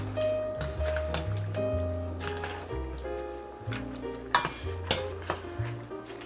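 Salt is stirred into Alfredo sauce in a pan, with clinks and scrapes of a utensil against the pan over a low hum, growing into sharper, quicker knocks toward the end.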